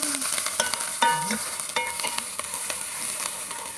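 Sliced onions fry and sizzle in a pan for ginisang monggo, with repeated spatula stirring scrapes and clicks over a constant close crackle, no voices.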